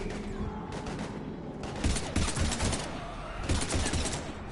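Dense, sustained gunfire in the game Mass Effect 3 during a combat mission against husks, with rapid overlapping bursts and heavier volleys rising in loudness throughout.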